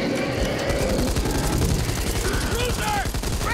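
Heavy continuous gunfire in the zombie shooter Back 4 Blood, rapid rattling bursts layered with booms throughout, and voices shouting faintly over the shooting.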